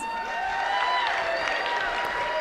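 Keynote audience at the Secret Knock event clapping and cheering to welcome a speaker on stage, a broad wash of applause with a voice talking over it.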